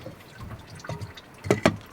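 Soy sauce marinade for Korean-style raw Dungeness crab is poured into a container. Soft liquid trickles and splashes build to two louder sloshing gulps near the end, close by, with no talking.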